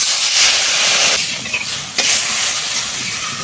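Water poured onto a hot frying paste of ground cumin and mustard sets off a loud, continuous hissing sizzle. The hiss is close and steady, with a brief sharper burst midway.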